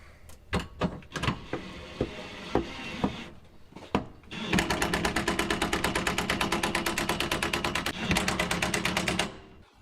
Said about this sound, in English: I'm going to turn my impact down to 1.